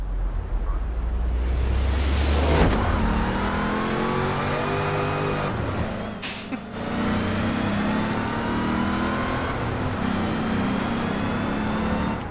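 Race car engine in Forza Horizon 4 revving hard and accelerating through gear changes, a loud, close, continuous roar with rising pitch sweeps and a brief dip mid-race.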